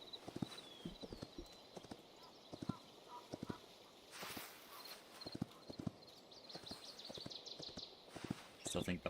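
Horse hooves clip-clop in a steady walking rhythm in the Hytale video game, a run of sharp, light knocks with the odd brief higher sound.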